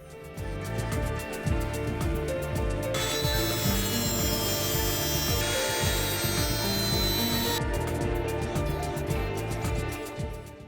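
Excess axle shaft on an RC AMC Gremlin drag car with a 3D printed chassis is cut by hand, making loud, rhythmic back-and-forth scraping strokes. A harsher, brighter grinding stretch sits in the middle.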